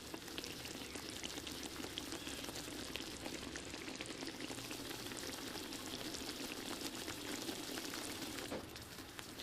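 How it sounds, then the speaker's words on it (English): Light coconut milk sauce for a chicken curry simmers and bubbles steadily in a pan, a dense continuous fizzing and popping that stays even throughout, with no voices. "Bring to a simmer and allow to bubble for 5 minutes."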